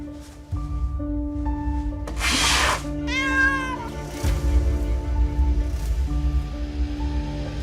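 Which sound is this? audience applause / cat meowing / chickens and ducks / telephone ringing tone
cat meowing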